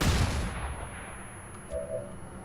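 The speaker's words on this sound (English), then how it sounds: "Okay, initiating with a flashbang." A flashbang grenade detonates in the video game XCOM 2, a single sharp blast at the start that fades into a dull rumbling decay, followed by a brief high ringing tone.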